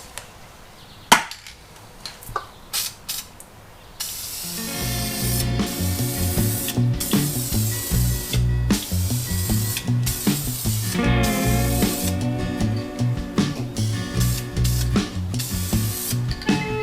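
Spray paint in Chevrolet orange red is applied to a motorcycle fuel tank. After a few sharp clicks and knocks, a steady close hiss starts and runs for long stretches, broken by brief pauses between passes.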